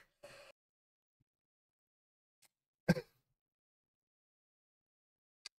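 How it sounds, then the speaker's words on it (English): Two short coughs, one soft and brief, then a louder, sharper one about two seconds later, close to the microphone in an otherwise quiet room. "I'm gonna cough"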